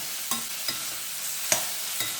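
Small onions for a chutney, with tamarind, frying in oil and stirred in a pan, giving a faint steady sizzle broken by a few soft scraping stir strokes, with no voices.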